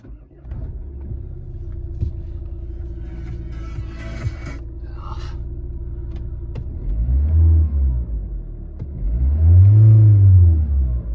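Nissan X-Trail starting from cold, its engine settling into a steady low idle before two throaty revs swell and fade, close by and fairly loud, with nobody speaking.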